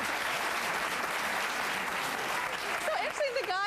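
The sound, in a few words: audience applause, men clapping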